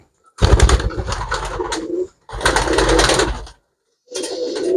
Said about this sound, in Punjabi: ਕਰ ਲੋ ਚੈੱਕ ਬਈ ਕੱਲਾ ਕੱਲਾ ਕਬੂਤਰ